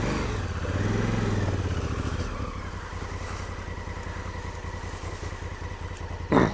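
A Honda Africa Twin motorcycle engine on a loose off-road slope, with a close rumbling drone that rises then settles into a steady chugging pulse, ending in a brief louder burst.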